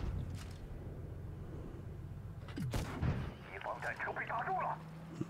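A tank cannon booms once, heavy and close, in World of Tanks Blitz, followed by a lighter electronic game sound, while a voice talks over the background engine hum.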